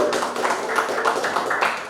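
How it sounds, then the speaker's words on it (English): A seated audience at a Singapore embassy languages and leadership training program gives a short burst of dense, continuous applause, with a faint voice underneath. "Round of applause again for the lady."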